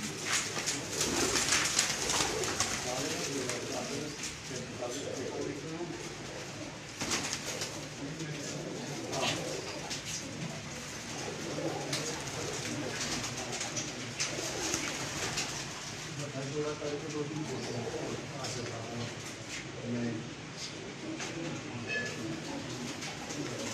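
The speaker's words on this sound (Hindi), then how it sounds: "ये दूसरी साइड के अभी कबूतर दिखा रहे हैं आपको।" Soft pigeon coos repeat in gentle rounds against a quiet outdoor background, with occasional faint voices.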